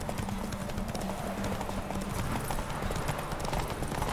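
Steady hoofbeat clip-clop of a horse galloping at full speed in The Witcher 3: Wild Hunt, Hearts of Stone expansion, a continuous loud rhythmic pounding with no talk.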